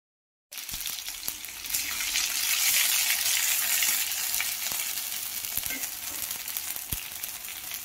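Ginger, whole cumin, five-spice and a dried red chilli drop into hot oil for a potato singara filling. After a brief silence, a loud, steady sizzle starts and carries on with occasional clicks of stirring.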